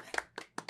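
A few sharp hand claps, four distinct slaps spaced unevenly, fairly close and moderately loud, with no talking.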